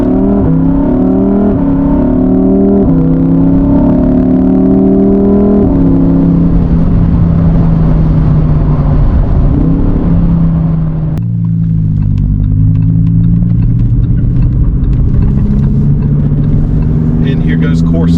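Lamborghini Huracán EVO engine pulls hard through the gears from inside the cabin, loud rising revs broken by shifts, then a lull and a deeper steady drone; occasional voices over the roar.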